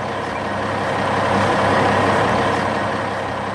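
Heavy trucks carrying loads for an excavator digging project rumble steadily across a bridge, a continuous loud engine drone with no speech.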